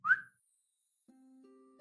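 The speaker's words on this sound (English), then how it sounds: "I'm just gonna do a short little whistle." A person gives a short, sharp whistle, a single bright upward chirp at close range, followed by silence and then a faint steady electronic tone.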